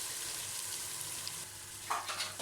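Garlic ginger paste fries over low heat in a pan for a Lahori chikar cholay, giving a steady soft sizzle with a brief stir partway through.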